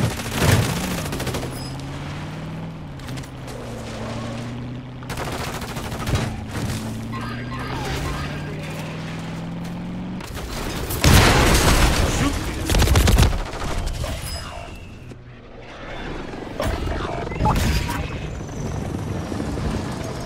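Call of Duty Warzone firefight: rapid bursts of gunfire and booms crackle over a droning helicopter-like engine, loud and close, with heavy volleys around the middle and scattered shots later.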